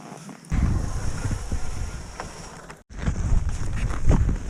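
Wind gusting on the frozen Lena river in winter Yakutia, near the Lena Pillars, a steady loud roar of rushing air against the microphone, briefly cutting out midway before returning just as strong.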